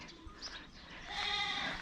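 A goat bleats nearby, a short wavering call that swells in the second half, with faint outdoor background and no talking.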